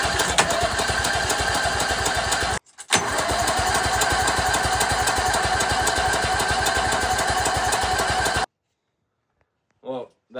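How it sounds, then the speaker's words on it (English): A race mower engine cranks and fires, running loud and rough with a steady rapid pulse, cuts out for a moment, catches again, then stops abruptly; a voice follows briefly after it dies. "We're gonna see if this thing starts."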